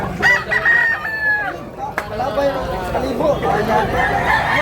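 Roosters at a gamefowl gathering in Tabunok, Cebu let out clear crows, one long call early on followed by more overlapping cries, with people talking and a crowd murmuring throughout.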